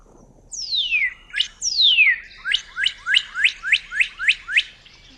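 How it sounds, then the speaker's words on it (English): A cardinal's song: two long downward-slurred whistles followed by a rapid series of about eight short, rising-then-falling chirps, clear and close with no other sound. "Visualizing a cardinal song helps you fully appreciate the vocal genius."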